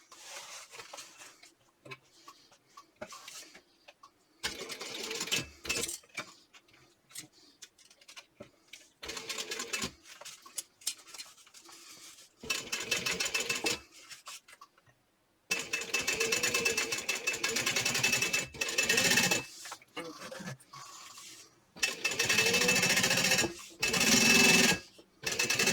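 A sewing machine topstitches a clutch bag with a 1/8 inch seam allowance, running in steady rapid bursts that start and stop repeatedly, loud and close, with short quiet pauses between runs.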